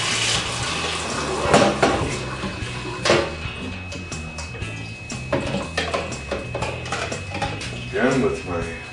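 A wine thief is washed in sterilant inside a measuring cup, with splashing liquid, hollow knocks and clinks of the cup and tool running steadily throughout, some louder knocks standing out.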